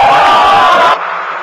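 Crowd of about two hundred young Korean and Japanese people shouting and cheering in joy, a loud dense burst of voices that cuts off and fades quickly.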